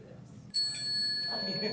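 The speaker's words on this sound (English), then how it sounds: "'ve asked Diane and Mary to be so kind as to be my little timekeepers with my Buddha Incan bell." A small Buddhist bell rung to keep time at a reunion lecture gives a single clear, sustained ring that decays slowly as a voice begins speaking over it.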